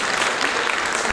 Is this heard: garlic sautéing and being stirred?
no